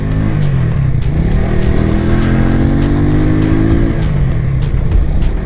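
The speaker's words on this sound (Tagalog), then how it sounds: "So subukan natin ulit yung arangkada." An FKM Agimat 175 motorcycle engine revs up, its pitch climbing steadily as it accelerates, loud and close, then drops back as the rider eases off.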